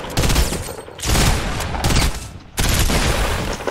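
A weapon fires in a video game in several loud, close bursts of rapid shots separated by short pauses, with no voices over them.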